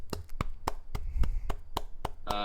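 A group claps after the first episode of the Sauce Hogs Sports podcast, producing a loose run of about eight distinct, close, sharp hand claps spaced unevenly, with faint background noise between them.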